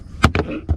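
A few quick plastic knocks and rattles as a seat belt buckle hits plastic trim in a Mercedes-Benz EQA 250, three short hard taps within under a second, close and sharp.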